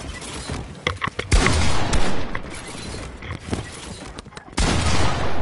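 Bursts of video game gunfire crackle loudly in quick clusters, with sharp repeated shots and booming hits spread across the few seconds and a steady roar of game noise underneath.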